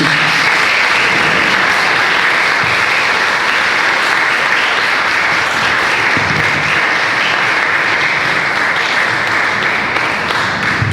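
Conference audience applauding a Catholic journalist's talk on Pope Francis, a loud sustained burst of dense clapping from a large crowd, steady throughout.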